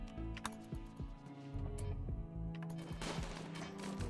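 AA turrets in Rimworld fire at raiders in rapid, clattering bursts of shots, loud and close, with short breaks between volleys and no talk.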